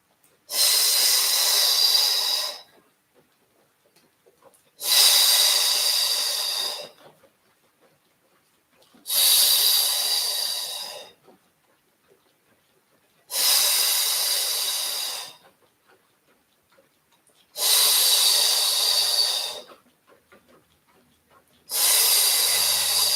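Deep, steady breaths drawn in and pushed out during an arms and abs Pilates workout with a resistance band, six long airy breaths in an even rhythm, close and clear with quiet pauses between them.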